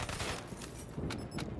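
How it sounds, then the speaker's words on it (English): Gunfire in Call of Duty Black Ops 3 multiplayer, a steady spray of shots with a couple of louder bursts, close and dense, no talking over it. "I'm just random shooting now"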